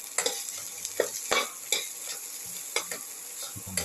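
Garlic sautéing in a pan with salt for a potato and tomato rice soup: a soft sizzle broken by sharp spatula scrapes and stirs at uneven intervals, close and alone.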